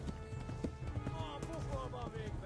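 Horse in the video game Kingdom Come: Deliverance, with quick rhythmic clip-clop hoofbeats of a running horse under game music and someone talking over it.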